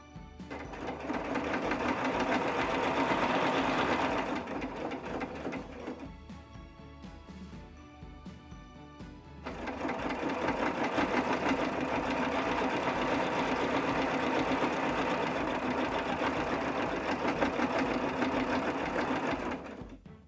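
A sewing machine stitches a quilted pillow in long steady runs, loud and close, with a brief slower, quieter stretch in the middle before it picks up speed again.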